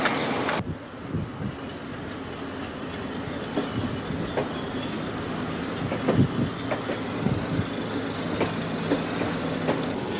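A passenger train starts its journey with a steady, loud rumble of rolling wagons and repeated clickety-clack from the wheels, heard up close with no talking.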